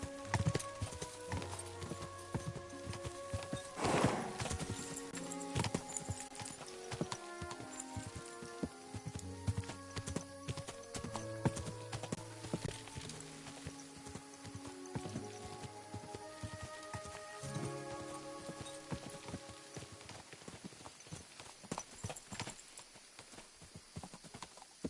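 Horse hooves clip-clop at a steady riding gait in the video game Kingdom Come Deliverance 2, a continuous rhythmic beat mixed with faint game music and ambient sound.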